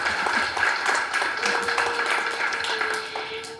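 Dinner audience at a county conservation district awards event giving a round of applause, a steady, moderately loud patter of many hands clapping in a room with a faint tone in the background.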